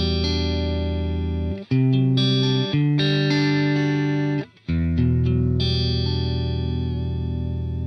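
Electric guitar played through a Neural DSP Quad Cortex with a dual compressor block added, sustained chords ringing loud and even with heavy effects, two brief gaps between strums, no talking.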